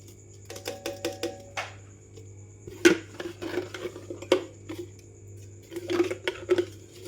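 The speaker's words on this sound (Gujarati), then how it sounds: "હવે આપણે આપણી કેરીમાં બધો મસાલો ભેળવી દઈશું" Spice masala being stirred into cut raw mangoes in a pot for jaggery mango pickle, heard as a close series of irregular clinks, scrapes and soft squishy knocks that come in bursts with short pauses.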